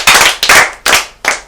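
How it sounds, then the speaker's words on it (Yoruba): A group of children claps for a child who answered a question on a storytelling show, four sharp, loud rhythmic claps close by with short gaps between them, no talking. "Ẹ pàtẹ́wọ́ fún un."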